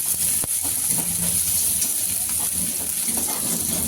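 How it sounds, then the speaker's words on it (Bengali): Sliced onions fry in hot oil for a Bhola fish curry, giving a loud, steady sizzle and hiss throughout, with faint clatter beneath. "লাল লাল করে ভেজে নেওয়া হবে এই কোচানো পেঁয়াজগুলোকে"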